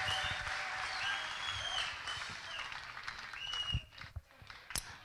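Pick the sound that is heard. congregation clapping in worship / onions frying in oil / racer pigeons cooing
congregation clapping in worship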